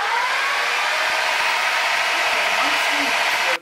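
An electric mixer whirs steadily at close range while it combines dry ingredients for buttermilk biscuits, a constant loud hum that lasts the whole clip.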